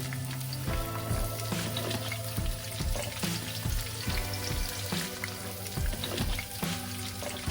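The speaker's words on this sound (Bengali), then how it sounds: "এবার আমি ফুলকপিটা একটু হালকা করে তেলে ভেজে নেওয়ার জন্য দিয়ে দিচ্ছি" Cauliflower sizzles steadily in hot oil, a dense continuous crackle with soft rhythmic knocks underneath, heard close without any talking.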